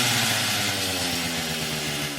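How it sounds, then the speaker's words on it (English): A chainsaw engine revs hard and continuously, a loud buzzing drone with wavering pitch that fills the whole stretch without pause. "Chainsaw engine revs."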